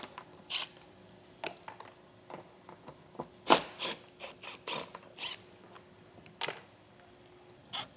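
Screws being removed from the air distribution box cover of a Coleman-Mach ChillGrill RV air conditioner: short ratcheting clicks and rubbing scrapes come in scattered bursts, close and quiet, with pauses between turns and no talking.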